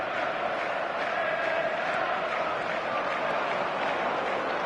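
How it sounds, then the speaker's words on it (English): Steady, dense crowd murmur from a virtual stadium in eFootball 2025 on PS5, a continuous restless roar held at an even level with no distinct cheers or chants standing out. "the crowd's impatience is an indicator that they haven't quite given up on a goal just yet"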